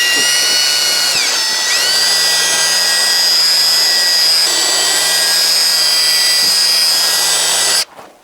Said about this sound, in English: I'm going to get this on my drill and then wet the light down and start sanding.